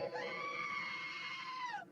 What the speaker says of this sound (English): Lots of goats.